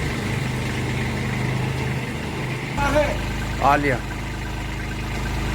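A Kubota B2441 4x4 mini tractor engine idles steadily in a field during light drizzle, a low continuous rumble that stays level throughout while brief voices talk over it partway through.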